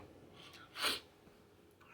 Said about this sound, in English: I'm probably going on a sneezing fit right now